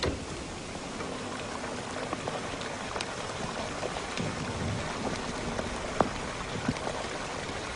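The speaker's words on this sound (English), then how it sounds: "we sprayed water on the coals and we got all this really incredible crackling and gurgling and all sorts of lava type sounds" Water sprayed onto hot burning coals, giving a steady hissing, crackling wash with scattered sharp pops and gurgles, close and continuous without any voices.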